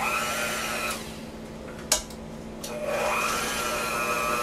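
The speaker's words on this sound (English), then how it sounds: "I just want to get that wet towel underneath there to kind of use it as a base so the bowl doesn't rock on me while I'm whipping this up with the hand mixer" Electric hand mixer whipping eggs in a bowl set on a wet towel for a flourless chocolate cake, a steady close whir that dips in the middle with a brief knock before rising again.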